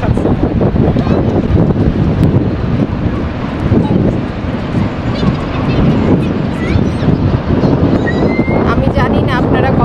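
Wind blows steadily by the river at Pier 35 park in New York, a continuous close buffeting rumble on the microphone with faint honks and background voices mixed in.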